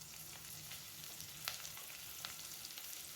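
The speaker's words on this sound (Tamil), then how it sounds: "வெங்காயம் பூண்டும் நல்லா வதங்கிருக்கு." Onion and garlic sauté in a pan, a faint, even sizzle with a couple of light stirring taps, heard quietly and alone.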